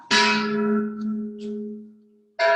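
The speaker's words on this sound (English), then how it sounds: "I'm going to keep ringing my bell because I love my bell now." A hand bell rung during a Yang-style tai chi session, giving one bright, close strike that rings out and slowly fades, then a second strike right at the end.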